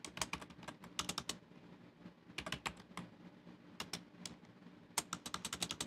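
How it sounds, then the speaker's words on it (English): Computer keyboard typing in bursts of quick, crisp key clicks with short pauses between runs, close and fairly quiet, alone with no talk. "I'm on Google typing in Google."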